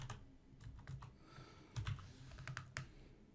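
Soft keystrokes on a computer keyboard, a quick run of irregular clicks and taps, faint and close with no voices over them.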